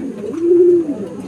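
A hen pigeon held in the hand gives a single soft, close coo, a short low tonal call rising and fading within a second over a quiet background.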